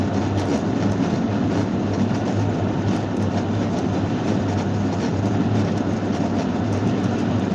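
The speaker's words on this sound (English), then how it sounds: "I don't usually run the bubbles with her in there. It's so loud." Jacuzzi tub bubble jets run loudly, a dense continuous rumbling roar with a steady low hum, close and unbroken with no talking.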